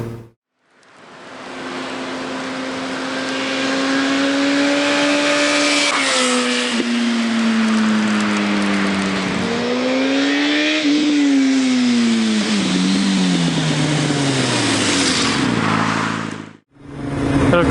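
Yamaha FZ1-N motorcycle fitted with a Storm Oval exhaust riding past, a loud engine note rising as it approaches, sweeping down in pitch as it passes close by, then rising again before cutting off abruptly.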